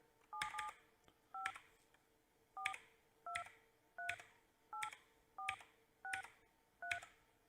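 Dialing tones of a VoIP phone call, a steady sequence of about nine evenly spaced DTMF key beeps, clear and alone with no talking.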